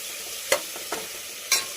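Tomato rice ingredients stirred together in a pan, giving three short scraping strokes that stand out over a faint steady sizzle, close by with no talking.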